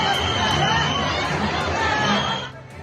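An uncontrolled crowd at a busy Indian railway station, dense overlapping voices and hubbub filling the space in a steady roar that eases slightly at the end.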